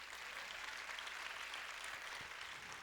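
Steady congregational applause for Jesus during a church service, a broad continuous wash of many hands clapping at even loudness throughout, with no voices over it.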